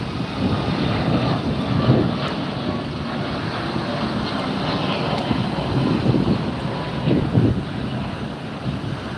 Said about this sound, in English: We have a United departing here.